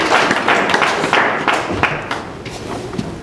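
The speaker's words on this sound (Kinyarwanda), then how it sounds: "Amashyi rwose." A crowd at a religious wedding ceremony claps in a dense burst of applause, loud and close, with scattered sharp slaps standing out before it thins toward the end.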